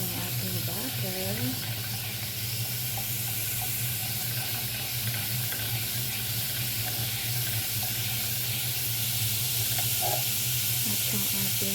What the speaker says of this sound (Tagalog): Siyempre, naglagay tayo ng butter. Tunawin na natin yung ating butter.